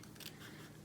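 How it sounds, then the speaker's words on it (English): Scissors snip through scrapbook paper while trimming a narrow rim, a close, quiet rasping cut that lasts under a second with no talk. "I'm just going to cut in and cut slightly"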